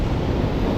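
Strong sea waves surging under heavy rain, a dense continuous roar of water and wind noise, loud and close throughout the brief moment.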